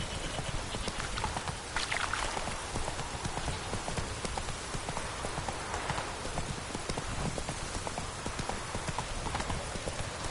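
Hooves of Roach, a horse in The Witcher 3, clip-clop steadily at a run through a continuous wash of rain, the galloping beat carrying on for the whole stretch with no voices over it.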